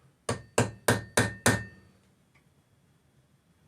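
Five sharp, evenly spaced hammer blows on a center punch mark a metal part for drilling a tap adaptor for a cordless drill. The strikes are loud and close, each ringing briefly before fading, and a single faint tap follows at the end.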